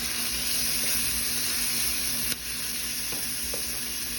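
Philly steak meat and vegetables stirred together in a hot pan, a continuous close sizzle with a single sharp scrape of the utensil partway through, then a slightly quieter frying hiss and faint clicks, no voices.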